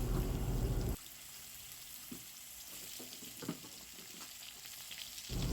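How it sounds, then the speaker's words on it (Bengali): Diced potato pieces dropped into hot oil with cumin, bay leaf and whole garam masala, a loud burst of sizzling at first that settles into a quieter, steady fry with a few soft clicks, swelling again at the end. "ছোট ছোট ডুমো ডুমো করে কেটে রাখা আলুর টুকরোগুলো তেলের মধ্যে দিয়ে দেওয়া হলো"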